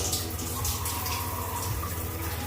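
A hotel shower head in Chiang Mai sprays water in a steady, broad hiss that holds constant and close with no pauses.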